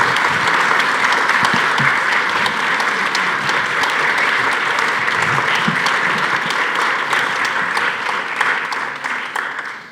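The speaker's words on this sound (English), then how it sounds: "How about a round of applause for our panelists?" Audience applause for panelists at an evening event on schools and artificial intelligence: sustained, dense clapping from a sizeable crowd, steady throughout and fading slightly at the end.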